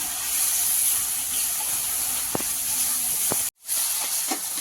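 Spices fry in a pan on the stove for a Bengali lentil-fritter curry with turmeric, giving a steady soft hiss and sizzle with a few sharp clinks and a brief cutout.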